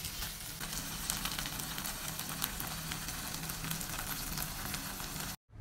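Green bell pepper going into a pan of simmering corned beef shawarma filling with slightly reduced broth, giving a steady close sizzle and bubbling that runs evenly and cuts off abruptly near the end.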